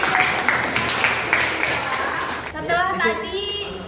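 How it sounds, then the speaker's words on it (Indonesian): Students in a classroom break into a burst of applause, broad steady clapping for about two and a half seconds before a voice starts talking. "Oke, beri tepuk tangan dulu."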